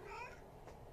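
Cats at a veterinary clinic meow at each other, one short strained, wavering cry up close against a low steady background hum.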